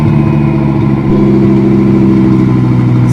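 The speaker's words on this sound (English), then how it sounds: "It literally sounds like a hot rod" A BoostLogic twin-turbo Gen II Audi R8 V10 runs close by, a loud, steady, throbbing rumble with a brief dip near the start before settling back into an even, gruff hot-rod-like note.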